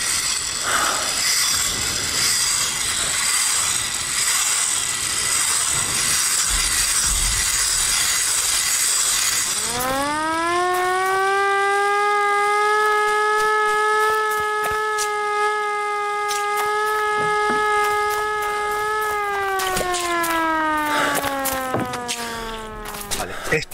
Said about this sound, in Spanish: Se va durante un momento, mientras la sirena suena.